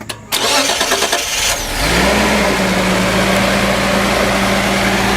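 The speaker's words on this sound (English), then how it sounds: "I'll fire it up and let you hear this thing" A Datsun 280Z engine, revived from a junkyard car, cranks briefly, catches, and settles into a steady, even idle that hums on close by.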